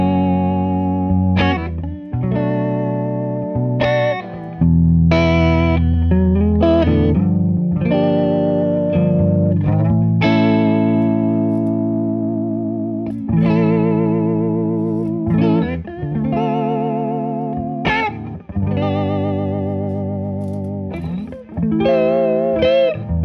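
An electric guitar plays chords and single notes through an EarthQuaker Devices Aqueduct vibrato pedal, each sustained tone wavering in pitch, loud and close with no voices.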